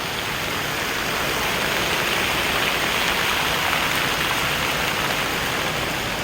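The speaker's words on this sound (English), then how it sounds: "It's getting kind of noisy over here with the fountain." Outdoor water fountain in a large park, a steady, dense splashing rush of falling water that stays loud and even throughout with no talk over it.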